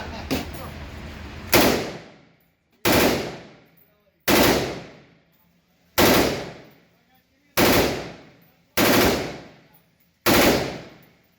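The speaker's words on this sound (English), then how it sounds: "I fired an HK33" HK33 rifle firing in the H3VR virtual-reality game: seven loud, sharp single shots spaced roughly evenly about every 1.3 seconds, each with a short decaying tail, no talk.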